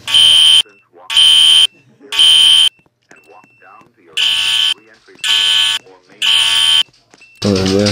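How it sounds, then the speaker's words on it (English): Federal Signal 4050D fire alarm sounding in a Roblox game: loud, harsh buzzing horn blasts in two groups of three evenly spaced pulses, with a short quiet stretch between and a voice briefly at the end. "You heard the federal signal 4050D?"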